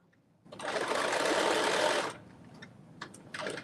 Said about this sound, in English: What a home run looks like on a sewing machine.